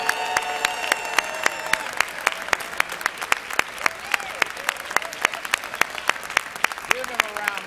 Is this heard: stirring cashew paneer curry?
no